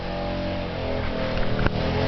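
A small motor on a home wind and solar setup revs steadily and loudly outdoors, holding a rough continuous drone with a brief sharper burst near the end.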